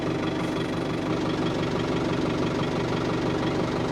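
A New Holland tractor engine idles from inside the cab, a steady low diesel rumble with a faint knocking pulse, continuous and close with no speech.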